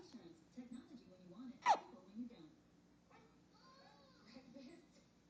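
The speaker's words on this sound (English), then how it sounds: "Hiccups, hiccups, go away." A baby hiccups once, a short sharp burst standing out above soft background sounds and an adult voice speaking nearby.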